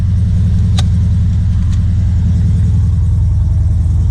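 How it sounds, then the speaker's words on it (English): A deep, throbbing exhaust rumble from a car idling up close, loud and steady throughout, with a couple of faint clicks. "Exhaust sounds so good"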